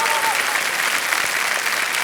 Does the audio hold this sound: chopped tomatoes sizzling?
no